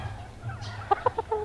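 Several short clucks from a hen brooding a clutch of ten eggs on a farm in the rainy season, close and distinct, over a low steady background rumble.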